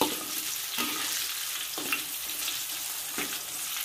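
Chicken skin fries over low heat in a pan with a steady, close sizzle and hiss. Soft scrapes of a turner come at intervals as the pieces are stirred and flipped.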